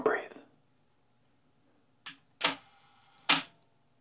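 A film camera fired by a shutter release cable makes a one-second exposure: a sharp mechanical click opens the shutter and a second click closes it about a second later. Both are close and crisp in a quiet room, after an earlier rustle.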